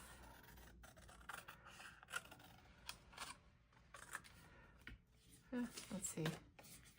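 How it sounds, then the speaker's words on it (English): Large scissors trim excess paper from an art piece in a series of short, close snipping and rubbing sounds spaced irregularly, each one crisp against a quiet room. "I might trim this down, so I'm gonna grab my bigger scissors here"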